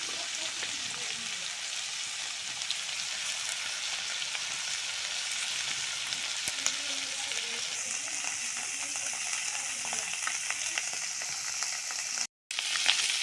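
Pieces of mola fish fry in hot oil in a pan, giving a dense, steady sizzle that runs close and constant, with a few faint stirring taps and a brief dropout near the end.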